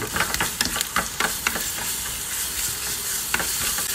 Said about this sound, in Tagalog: Bago natin igisa ang igisa natin yung yung bawang na 4 na piraso na ginadgad